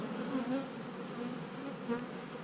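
A weak honeybee colony hums with a soft, steady buzz of many bees close by, rising and falling gently and heard alone with no talking.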